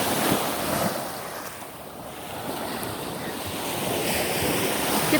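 Ocean surf at a dog beach rolls in continuously, a broad steady wash of breaking waves with wind buffeting the microphone, no voices present.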